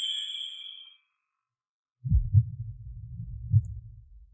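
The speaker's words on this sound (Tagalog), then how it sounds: "Ang bilis ng tibok ng puso mo." A heartbeat sound effect thumps low and muffled, a few quick irregular beats following a fading high tone and a short silence.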